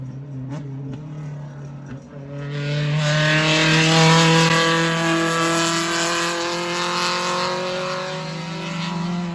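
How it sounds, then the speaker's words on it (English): A Mazda race car, unwrapped after repairs from a wall impact, runs shakedown laps on a track in Starke, Florida, its engine note rising into a loud sustained high-revving drone as it passes close by. "They're just out there making some shakedown laps just to make sure everything is working like it's supposed to."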